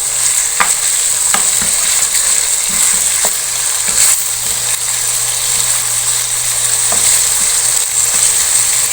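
Mutton pieces fry in oil for degi haleem, with a loud, close, continuous sizzle and periodic knocks and scrapes from stirring in the pot.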